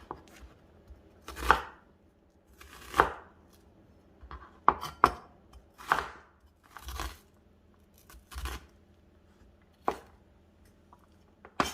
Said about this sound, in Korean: 다진 양파 반 개 정도만 쓰시면 되세요. 반 정도만 다져줄게요.